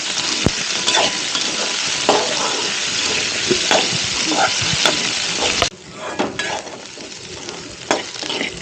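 Onions and curry leaves sizzle steadily in hot oil for a duck curry, stirred now and then with sharp scrapes. The frying dips quieter partway through but keeps crackling to the end.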